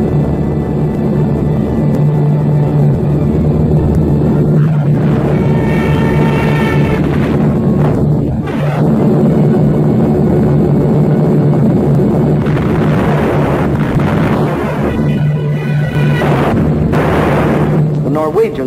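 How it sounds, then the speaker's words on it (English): German bomber aircraft in an air attack on Norway, a dense, loud roar of engines and explosions with a steady drone throughout, mixed with music and voices. "The Germans brought up their bombers."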